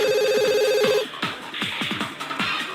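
Telephone ringing in The Sims 2, a bright electronic ring repeating steadily for about a second, then giving way to a busier mix of clicks and game sounds.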